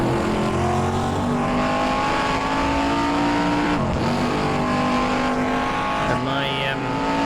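Race car engine in a racing video game at Linas Montlhery, a loud steady high-revving tone with harmonics, lifting briefly between shifts and blips, with a voice talking over it throughout.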